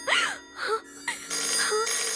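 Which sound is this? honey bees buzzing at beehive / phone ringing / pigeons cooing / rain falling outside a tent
phone ringing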